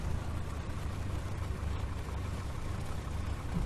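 Cessna 172 piston engine in the Flight Simulator X game, a faint steady low drone with a slightly rough, uneven hum running continuously and alone.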